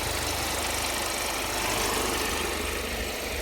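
A 2021 Hyundai Creta 1.5 diesel SX idles steadily with a smooth, even low rumble and a faint rhythmic knock, close and continuous with no talking.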